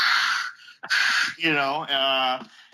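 A voice mimics a slasher villain's heavy, Darth Vader-style mask breathing, producing a couple of loud, close, drawn-out rasping breaths in and out.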